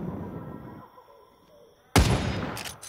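A single sharp, loud gunshot from the Big Fat Battle video game cracks out suddenly after a quieter stretch, with a short ringing tail.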